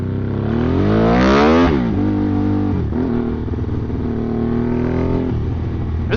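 A Honda Grom motorcycle fitted with a swapped Ducati 1199cc engine revs hard and accelerates on a road, loud rising and falling engine pitch through several gear pulls, close and alone.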